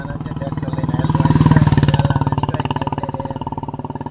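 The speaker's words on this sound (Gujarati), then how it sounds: "આપણે લઈ લીધું છે ટ્રેક્ટર" A tractor engine chugging nearby with a loud, steady low-pitched thump that swells briefly then settles into an even rhythmic idle, with voices talking over it.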